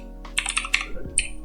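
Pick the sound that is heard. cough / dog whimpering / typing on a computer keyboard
typing on a computer keyboard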